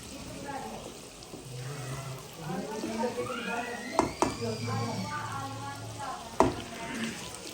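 Chicken and spices slowly frying in a karahi, a soft sizzle with occasional sharp clinks of the stirring spoon against the pan, heard beneath someone speaking throughout.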